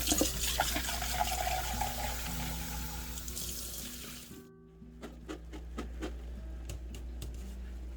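Water pours and splashes from a can into a cooking pot of beans, corn and fire-roasted diced tomatoes, a steady close liquid rush that cuts off midway, followed by faint drips and small clinks over a low hum.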